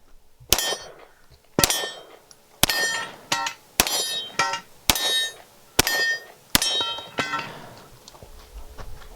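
Pistol rounds ring off steel targets in a rapid string during a Desert Brutality 2021 competition stage: about seven sharp metallic clangs, each a crack followed by a bright ringing tail, with short gaps between the hits.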